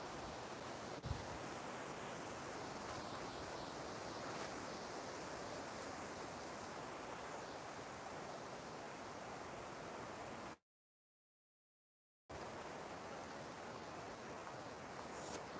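Water flows beside a riverside path with a continuous, even rushing wash close by. It cuts out briefly near the end, then resumes unchanged.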